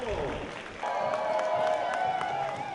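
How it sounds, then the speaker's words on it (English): Spectators at a Seattle Rainmakers ultimate frisbee game cheer and clap after an early lead, a brief burst of crowd noise that swells partway through, with some talk mixed in. "Crowd excited to see their Rainmakers with an early lead"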